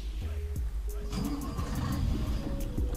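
A Scania V8 truck engine in Euro Truck Simulator 2 rumbles and revs, rising and falling in pitch with a close, throaty tone, while a voice talks partly over it.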